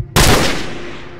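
A single loud, close gunshot in Call of Duty 4: Modern Warfare bursts out abruptly and leaves a long, broad decaying rumble and echo trailing off over the next second.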